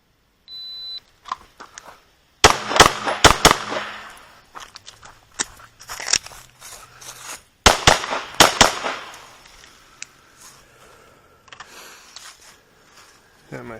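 Pistol shots fired while moving in a 3-gun drill, engaging targets, changing magazines and stepping up to a barrel on an outdoor range: two sharp loud pairs of shots, then quieter scattered cracks and clatter.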